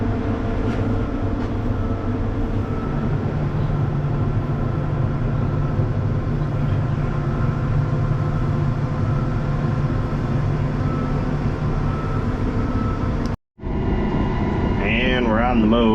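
A truck pulling a trailer on the road between farms, a steady low engine drone and road rumble inside the cab that continues throughout, with a brief dropout near the end and some faint voices.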